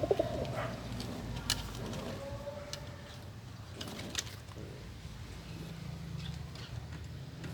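Soft cooing of a pigeon, a few low throaty calls close by, with faint rustling and scattered clicks around it.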